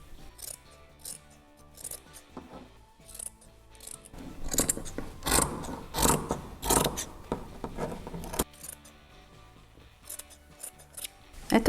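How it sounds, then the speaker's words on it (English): Scissors snipping through fabric for a homemade neck warmer, a run of close, crisp cuts that speed up into a denser burst in the middle before slowing again, with no talking. "I'm going to cut it 20 centimeters tall"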